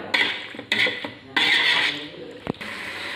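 Paneer is stirred with masala in a pot for a restaurant-style paneer biryani, with repeated scraping and clinking of a spoon against metal in close bursts.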